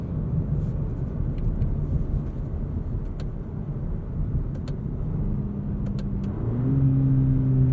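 A 2021 Cadillac CT4-V AWD four-cylinder engine heard from inside the cabin while driving, a steady loud drone that climbs in pitch as the revs rise near the end, with faint clicks over it.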